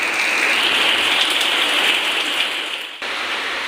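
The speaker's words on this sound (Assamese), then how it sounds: "আমাৰ ফালে আৰু একেৰাহে বৰষুণে মাৰি আছে।" Heavy rain pours down in a dense, steady roar that stays loud throughout.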